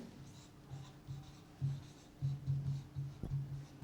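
Marker or chalk strokes on a classroom board, short faint scratching bursts in an irregular rhythm with a small knock near the end, quiet and close.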